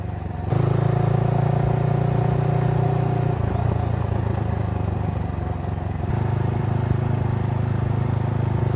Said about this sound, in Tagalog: na magpapatunay kung gaano katibay itong motor natin na Motorstar Class Cafe Racer